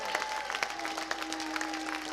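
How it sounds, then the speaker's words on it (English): A crowd claps at an outdoor pro-Brexit freedom march rally in the UK, a dense, steady crackle of many hands with sharp individual claps poking through and a faint electronic tone humming underneath. "Give a round of applause for Gary from the DFLA and for the DFLA."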